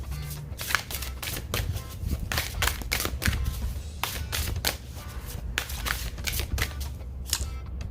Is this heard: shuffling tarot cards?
yes